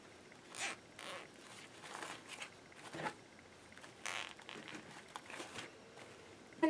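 A zip tie ratchets tight around a burlap wreath, a series of quiet close zipping rasps in short irregular bursts with some crinkling of the fabric.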